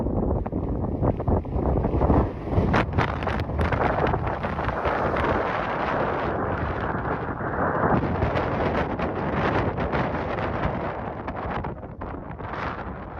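Steady wind buffets the microphone on a breezy, desolate coast near the Orkney Isles, a continuous loud roar with gusty flutter during a solo cycle ride, no voices.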